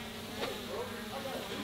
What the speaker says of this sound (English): It sounds like a mad bee.